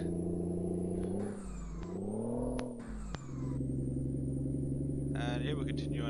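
A Kenworth K100 truck hauling an oversize trailer coasts downhill in neutral, its engine tone sliding and dipping as it whirs along, with gear and tonal shifts midway and a steady drone after; a voice talks over it.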